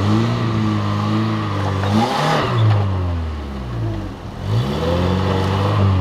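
Suzuki Grand Vitara engine revving hard through a water crossing, a loud steady mid-pitched drone with rising and falling revs and a brief dip near the end.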